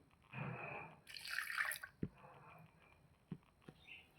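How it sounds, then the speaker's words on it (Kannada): Water is poured into a glass of beetroot smoothie in short, quiet splashing bursts, with a couple of sharp drips or taps in between. "ನಾನು ಇವಾಗ ನೀರು ಹಾಕ್ತಿದ್ದೀನಿ."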